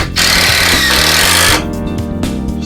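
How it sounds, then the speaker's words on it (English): A power drill drives screws into a board for a basement furnace room door, its motor whining loudly in steady pulses that climb in pitch, then tail off near the end. "I'm going to throw a few extra screws in it"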